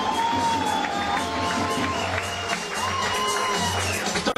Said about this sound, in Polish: I raz jeszcze brawa Kyrie Battle!